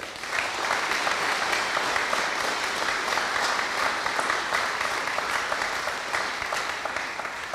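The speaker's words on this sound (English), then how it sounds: "Can we give the middle team a huge round of applause?" An audience at a school Christmas production gives a steady, dense round of applause lasting several seconds, loud and continuous with no voices on top.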